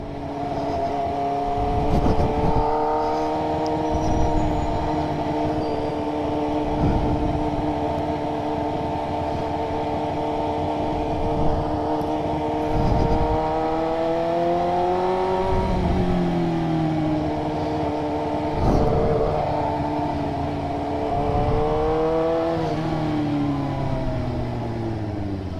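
Cars driving past one after another in Carlisle, engines humming and rising as they approach, with a steady road drone between passes.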